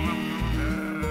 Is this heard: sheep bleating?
yes